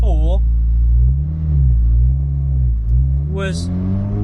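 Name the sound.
turbo Honda Civic EJ9 driving, loud cabin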